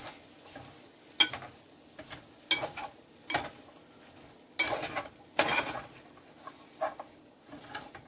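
Cabbage for colcannon stirred in a pan, with irregular scraping and clattering strokes of the utensil over a soft sizzle, close by with quiet gaps between strokes.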